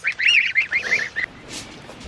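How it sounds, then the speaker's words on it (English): Several loud goose honks in a quick burst close by, a short series of nasal calls that stop abruptly, followed by a faint hiss. "geese out here"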